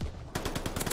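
An MP40 submachine gun fires a rapid automatic burst in the video game Call of Duty: Vanguard, the rattling shots close and loud and cut off within a second.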